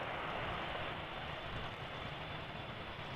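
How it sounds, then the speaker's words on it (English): An American Airlines Boeing Dreamliner, flight 204 from Philadelphia, arriving at Amsterdam Schiphol Airport: a steady, broad jet roar holds even and fairly loud throughout, with no talking. "This is American Airlines flight 204, arriving from Philadelphia."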